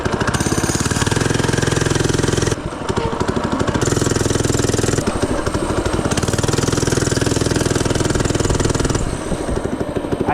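An FRP GMB-100 minibike engine runs loud and close, a steady rattling putter with a couple of brief dips in revs, warming up with no talk.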